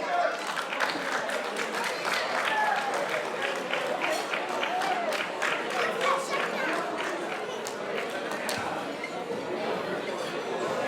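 Sustained audience applause fills a hall at the OFAC 2014 motorsport awards ceremony, dense and steady throughout, with crowd voices murmuring beneath the clapping.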